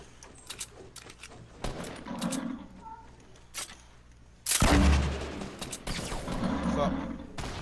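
Bursts of gunfire in a shooter video game: scattered sharp shots early on, then a loud heavy volley about halfway through followed by more rapid shots, with a player talking over the action.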